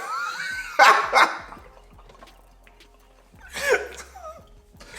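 Dog barking in two quick pairs of sharp barks, a couple of seconds apart, fairly close, with quiet background between and no talk over them.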